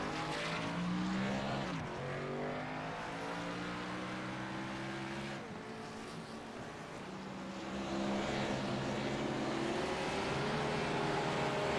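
Race cars circle the Phoenix track, a steady, fairly faint engine drone with slow pitch shifts as cars pass, running continuously with no talking.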